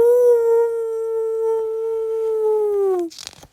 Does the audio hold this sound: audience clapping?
no